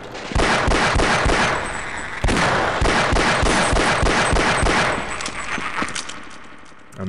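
Gunfire in the video game Half-Life: rapid bursts of loud, repeated shots in two quick volleys with metallic clanks, then fading to scattered shots.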